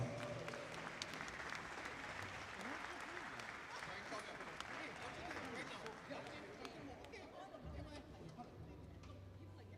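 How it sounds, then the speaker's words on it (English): A crowd applauds to welcome performers to the stage at a Ukulele Club of Hawaii livestream, continuous clapping mixed with audience chatter and faint voices, tapering slightly toward the end. "Very beautiful round of applause."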